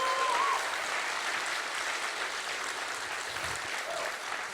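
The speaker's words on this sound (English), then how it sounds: "Joshua, you want a big round of applause for Joshua today, guys?" Steady audience applause fills a studio stage event as a guest is introduced, a dense, even wash of clapping that holds at a constant level throughout.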